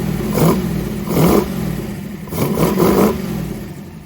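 A 1932 Ford Roadster hot rod engine with IDF/HPMX carburetors revs up from idle in repeated bursts, rising and falling roughly every second, loud and close with a throaty rumble.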